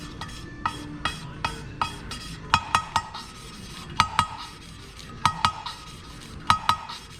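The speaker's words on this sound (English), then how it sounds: "You hear somebody talking about lapping in valves and just don't know what it is." An engine valve is lapped by hand against its seat, giving a steady series of sharp clicking taps and light scraping at a regular pace, close by with no talk.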